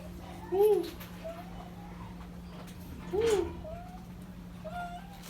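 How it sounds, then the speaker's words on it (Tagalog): Siamese and Himalayan stray cats meow repeatedly nearby, two clear rising-falling calls followed by fainter mews, over a steady background hum. "Ito yung mga inaalagaan kong pusa."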